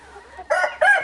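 A rooster among a group of cockerels being separated crows in a short, loud burst close by, preceded by faint low clucking.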